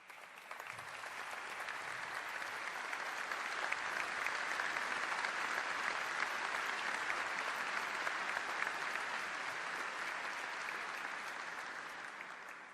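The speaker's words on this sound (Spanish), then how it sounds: "Quiero suponer que aplauden a Lavalleja." A crowd claps at a political launch event in Uruguay, a dense, even wash of applause held at a steady moderate level with no break and no talk over it.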